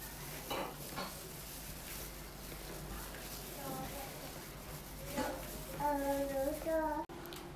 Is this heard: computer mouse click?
no